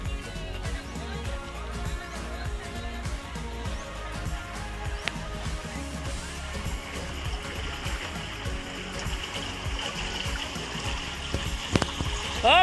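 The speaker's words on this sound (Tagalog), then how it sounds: "Tapos nagpapasok tayo ng tubig ngayon." Water running into a fishpond, a continuous rushing trickle heard outdoors at moderate level, steady throughout with faint background sounds and occasional brief knocks near the end.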